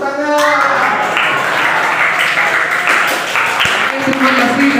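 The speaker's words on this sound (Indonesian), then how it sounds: "Tepuk tangan." Classroom audience applauding after a group presentation, a burst of loud, quick clapping from many hands mixed with children's voices and brief tonal sounds over the top.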